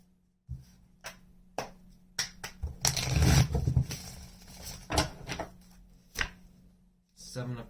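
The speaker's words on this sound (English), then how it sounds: "Let's get one more shuffle." Tarot cards being shuffled in a series of soft riffling and slapping bursts, with one denser stretch midway, close and moderately quiet, with gaps of near silence between.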